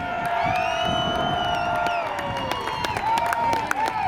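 At Seekonk Speedway after a Pro Stock feature, the grandstand crowd cheers, whoops and applauds. A sustained tonal hum runs through it, and there is a loud, continuous roar with scattered shouts.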